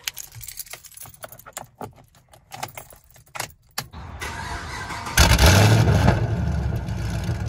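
Keys jangle and click for a few seconds before a Chevrolet Camaro SS engine cranks, fires up loudly up close, and revs before settling into a steady rumbling idle.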